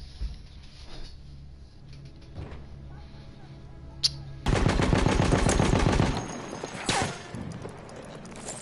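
Gunfire in Battlefield 1: quiet, scattered distant shots, then a loud, close, rapid automatic burst lasting nearly two seconds, followed by a few more sharp shots amid battle noise.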